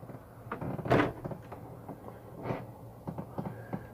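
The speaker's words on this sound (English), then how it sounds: "and shut the door." A hard door inside a cargo trailer converted into a camper shuts with one sharp knock, after quieter handling clunks and creaks in the small space.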